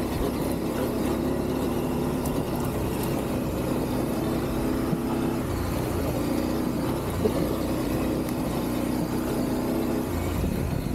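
An adventure motorcycle, a Ducati DesertX or KTM 890 Adventure R, rides over a rocky trail, its engine drone and road rumble holding steady and loud throughout with no talking.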